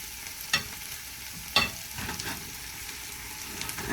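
Shredded potato bites frying in olive oil, a steady sizzle with a few sharp pops and spatters as pieces are turned in the pan.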